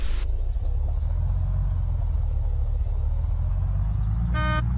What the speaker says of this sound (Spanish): Yo voy a ir pitando con el pito para ir haciendo escándalo.